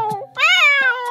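A small kitten gives a single high, drawn-out meow, loud and close, with a brief softer sound just before it.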